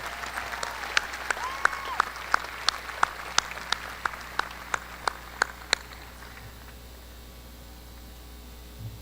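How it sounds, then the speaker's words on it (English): Scattered hand claps from a small audience at a high school graduation, a dozen or so sharp individual claps over a few seconds, fading out into quiet room noise. "Let's give him one more big round of applause."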